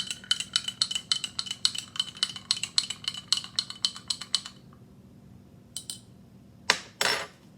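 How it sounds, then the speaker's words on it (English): A spoon stirs a warm cinnamon drink in a cup, a quick run of bright rhythmic clinks against the sides that stops, then a few scattered taps and a final louder clink and clatter. "then you want to give it a really good stir"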